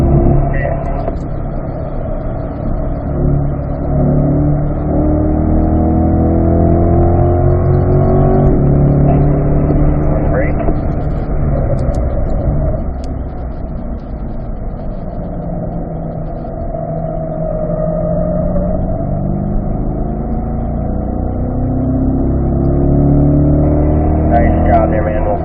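A Corvette accelerates on a race track, its engine note rising and falling in long sweeps of loud, steady drone while an instructor talks over it throughout.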